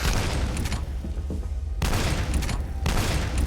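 A heavy cannon weapon in the F.E.A.R. first-person shooter fires in loud, dense bursts of gunfire, two sharp blasts breaking a sustained rumbling barrage close up, with no talking over it.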